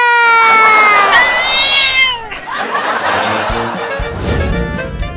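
A long, drawn-out cat meow, loud and close, followed by scuffling noises and voices laughing and exclaiming.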